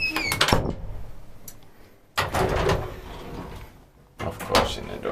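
Doors of an old Titan traction elevator built in 1923 and modernized by Kone, in a Copenhagen building, slide and thud in three separate bursts, each a rattling rush that fades, with brief quiet gaps between.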